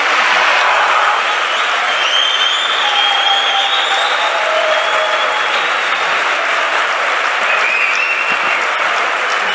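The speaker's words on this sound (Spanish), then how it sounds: "este aplauso expresa a Javier Cercas el agradecimiento del público por estar aquí" A festival audience applauds writer Javier Cercas at the close of a conversation: loud, sustained clapping from a large crowd, dense and unbroken, with faint whistles or cheers riding over it.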